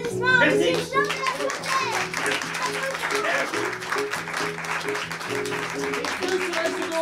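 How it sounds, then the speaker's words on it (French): An audience applauds a stage show about Jean de La Fontaine, mixed clapping rising under loud voices and children's chatter, with tonal speech or singing running across the whole stretch. "mesdames et messieurs, sous vos applaudissements"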